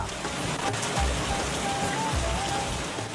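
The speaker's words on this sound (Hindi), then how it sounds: "इस्लामाबाद में बारिश से मौसम दिलकश और सुहाना" Rain in Islamabad falls steadily onto surfaces, a dense even patter that holds at constant loudness throughout with no voices.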